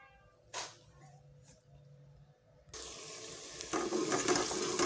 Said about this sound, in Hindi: तो ऑयल डाल लिया है मैंने पहले ही, अब इसमें डालती हूँ प्याज और मसाला बनाती हूँ।